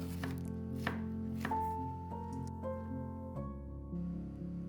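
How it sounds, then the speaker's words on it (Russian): A knife chops a shallot quickly on a board, a few sharp cuts at first then lighter steady taps, close and fairly quiet. "А пока жарится курица, нарежем одну луковицу."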